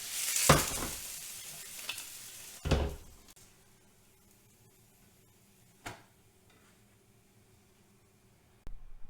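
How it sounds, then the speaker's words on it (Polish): An omelette sizzling in frying fat in a hot pan, with a few sharp clatters of utensils early on, then a quieter, steady fry with occasional clicks. "Tłuszczyk aż skwierczy."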